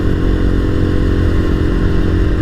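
A motorcycle rides steadily along a graded, wet trail, its engine a loud, constant rumble with a droning low roar up close, without pauses.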